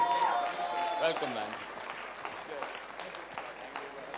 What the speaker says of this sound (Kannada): Come on, non-stop ಚಪ್ಪಾಳೆ ಬರ್ಲಿ.